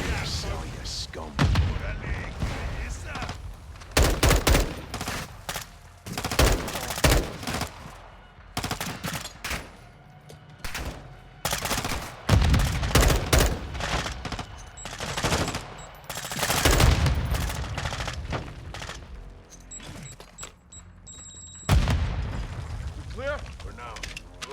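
Turret gunfire in a shooter video game, with dense bursts of rapid shots and heavy booms that stop and start through the stretch, loud and close, with a voice speaking among them.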